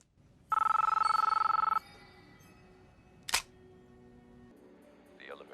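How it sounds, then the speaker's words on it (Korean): A phone rings once in a quiet film scene, a loud electronic trill lasting about a second, followed by a low room hum, a sharp click or thump, and faint rustling near the end. "모피어스한테 전화가 오고"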